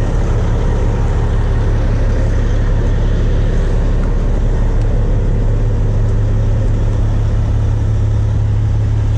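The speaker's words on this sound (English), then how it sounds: "Trucks are loud." Heavy trucks rumble and idle nearby, a loud, continuous low engine drone that fills the whole stretch without letting up.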